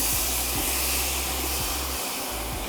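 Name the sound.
apples with syrup added to a hot pan, sizzling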